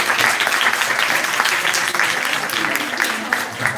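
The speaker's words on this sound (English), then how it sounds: "So big applause for them." An audience applauds at a conference closing ceremony, dense steady clapping that fills the room throughout.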